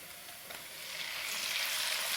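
Small boneless chicken pieces with garlic fry in hot oil in a pan, giving a steady, close sizzle that grows slightly louder and brighter toward the end, with no talk over it.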